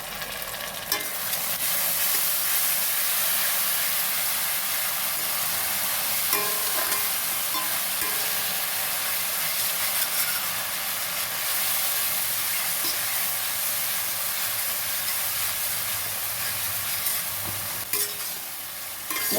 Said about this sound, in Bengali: খুব সুন্দর করে আমি কষবো